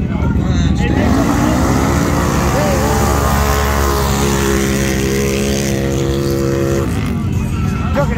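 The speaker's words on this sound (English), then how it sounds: "It took an eternity for that bike to get up to RPM" A motorbike engine revs loud and close, its pitch climbing slowly to high RPM, holding there for several seconds, then dropping away.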